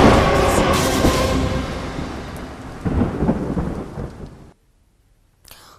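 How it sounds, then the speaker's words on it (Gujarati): Heavy rain pours over Saurashtra with thunder rolling through it, a loud, dense wash that swells midway, then cuts to near silence before a faint return at the end. "राजकोट सहित सौराष्ट्र में अविरत वरसाद वरस्यो"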